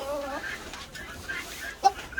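Chickens cluck in short bursts with mixed background noise; a brief sharper call stands out near the end.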